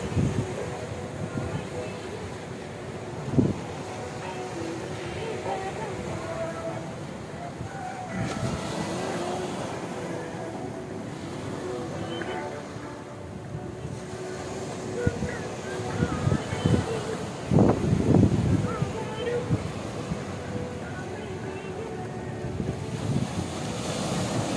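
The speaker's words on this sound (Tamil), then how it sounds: "கோவளம் பீச் பார்க்க நன்றாக அழகாக இருக்கிறது." Surf at Kovalam beach near Kanyakumari, a steady wash of waves with wind buffeting the microphone, occasional louder breaking surges rising over the constant roar.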